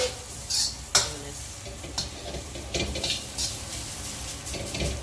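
Rice being stir-fried in a wok until golden, with a soft continuous sizzle beneath repeated scraping and tossing strokes of a spatula against the metal. The strokes come at an irregular rhythm, close and moderately loud.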